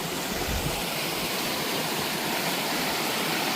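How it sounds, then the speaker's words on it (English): Water pouring down a sheer rock face into a deep pool on a Georgia mountain trail, a steady broadband rushing roar, close and continuous with no voices. "a sheer rock face with water going down"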